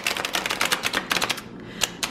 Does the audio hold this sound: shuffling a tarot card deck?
yes